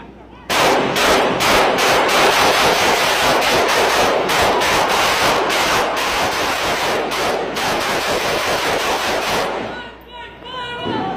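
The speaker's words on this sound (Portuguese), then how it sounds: "14 segundos de tiro pro alto." Rapid gunshots fired into the air in a long, loud, continuous burst for about nine seconds, then abruptly stopping.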